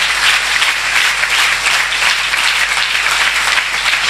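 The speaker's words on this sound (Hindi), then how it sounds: "आप यहाँ तालियां बजा रहे हैं, ये तालियां प्रभु के लिए है" A worship congregation claps hands in a dense, steady wash of applause, loud and continuous without pause.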